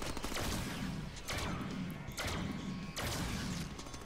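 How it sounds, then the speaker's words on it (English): Gunfire aimed at the player in the Deadpool video game, a dense continuous fusillade of rapid shots with three heavier impact bursts, loud and close throughout. "Who's shooting at me?"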